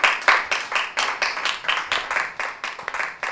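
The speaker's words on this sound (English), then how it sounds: "A round of applause." Audience applause at a televised talent contest show, a small group clapping in loose, fairly even rhythm, close and moderately loud, lasting a few seconds with no talking.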